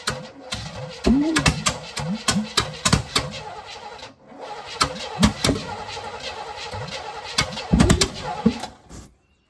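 A Volvo V8 drift car with an ignition fault cranks and fires in repeated rough bursts, loud and close, with uneven stuttering revs and brief pauses between attempts.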